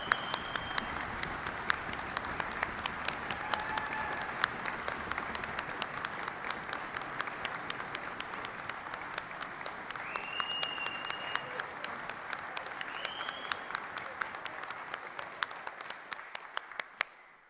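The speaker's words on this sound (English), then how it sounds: "Give yourself a huge, huge last round of applause, please." Sustained applause from a large graduation ceremony audience at Fife College, dense clapping throughout with a few faint cheers, fading out at the end.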